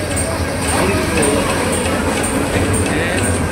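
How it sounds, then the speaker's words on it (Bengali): A long, crowded passenger train rolls past on a Dhaka line as a steady, loud rumble and rattle, with faint periodic high squeals and people's voices mixed in. "আমরা দেখতে পাচ্ছি একটি ট্রেন"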